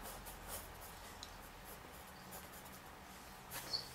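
Pencil sketching big figure lines on paper for a comic anatomy drawing, faint soft scratchy strokes in short bursts, quiet and close with no talk.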